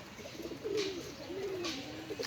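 Soft low cooing from a male pigeon, two drawn-out rolling calls in a row, fairly close, over a faint background hiss.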